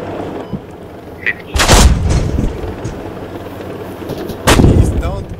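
Tank cannon fire in the military shooter game Squad: two heavy booms a few seconds apart, each with a deep rolling rumble over steady engine drone, with faint voices in the background.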